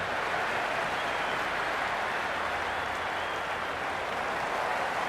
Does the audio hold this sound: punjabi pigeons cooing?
no